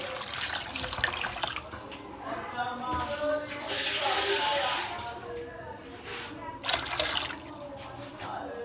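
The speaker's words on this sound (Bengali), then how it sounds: "এর ভিতরে আমি সামান্য পরিমাণে পানি অ্যাড করে দিব" Water is poured from a tap into a salted, seasoned food mixture in a home kitchen, splashing and trickling in bursts, with a voice talking over it.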